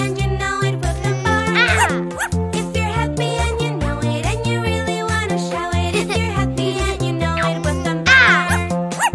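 Playful dog bark sounds woven into a bouncy children's song, repeating in rhythm with the melody and music throughout.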